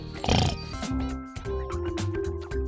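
Cartoon little pigs oink in a quick, loud burst of squealing grunts at the start, followed by a busy mix of tones and lively cartoon sounds that carry on to the end.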